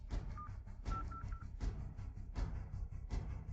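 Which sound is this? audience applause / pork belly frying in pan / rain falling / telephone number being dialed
telephone number being dialed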